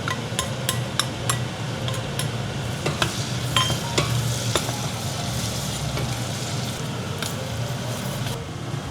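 Chopped onions hit melted butter in a pan over medium heat, giving a steady close sizzle with scattered sharp clicks from stirring, no voice over it.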